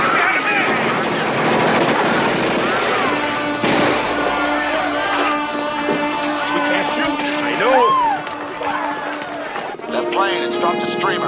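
A plane flying overhead in a scene from the 1980s TV series Blue Thunder, its engine drone sustained loudly beneath energetic spoken dialogue that runs through most of the scene.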